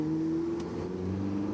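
A Porsche 918 Spyder hybrid accelerates, its engine note rising in pitch and pulling hard, heard from close inside the car at steady loudness with no talking.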